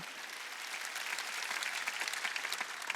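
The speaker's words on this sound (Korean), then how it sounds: "박수 치라는 거예요" A church congregation claps together at a Sunday worship service, a dense, continuous round of applause that holds steady for the whole stretch without any voices.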